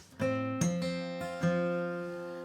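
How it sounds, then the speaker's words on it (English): Plucked guitar strings ring out with a few sharp percussive flicks in a rhythmic pattern, close and clear, with notes sustaining between strikes. "it's sort of a rhythmic flick that he does with his finger"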